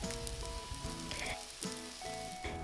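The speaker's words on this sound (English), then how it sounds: "Put the tofu pieces on a preheated pan with about a tablespoon of cooking oil" Tofu pieces fry in about a tablespoon of cooking oil in a preheated pan with a soft, steady sizzle, partly masked by faint tonal background sound.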